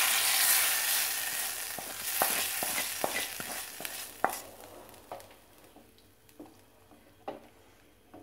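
Liquid pours into a hot pan while making Tamil sambar: a loud sizzle hisses and gradually settles, broken by clicking taps of a spoon against the pan, close by with no talking.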